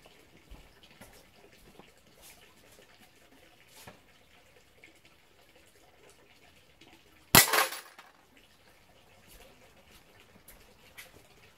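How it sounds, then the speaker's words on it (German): A single sharp shot from a GSG CP1-M air pistol fired from 8 meters at a bottle and a deodorant can: one sudden close crack with a brief rattling tail, otherwise near silence. "So, erster Schuss, 8 Meter Distanz."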